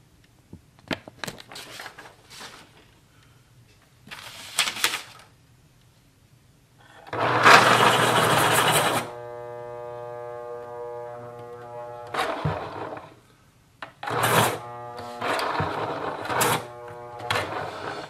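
A Westcott iPoint electric pencil sharpener grinds a pencil in several short motor bursts separated by quiet gaps; the longest whirring burst lasts about two seconds and carries a steady humming tone.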